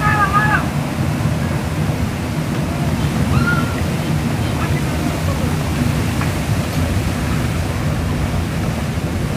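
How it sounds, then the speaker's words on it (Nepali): A burst large water pipe at a city junction gushes water with great force, a loud, steady roaring rush that fills the whole stretch without a break, no speech heard. "पानी अत्यन्त ठुलो फोर्सले आएकोले गर्दा यहाँ पाइप विस्फोट भएको छ"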